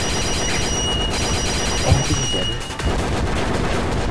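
Rapid gunfire from shooting in a video game, dense and continuous across the whole stretch with a busy ringing electronic backdrop and a brief heavier burst midway.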